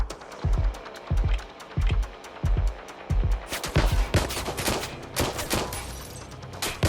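Gunfire in the video game Watch Dogs Legion: a regular run of single loud booming shots, then a denser burst of rapid crackling fire, all close and without speech.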